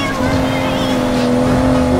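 A Lamborghini V12 in Need for Speed Heat holds a loud, steady engine drone at speed through a corner, with a constant tonal whine and faint tire noise.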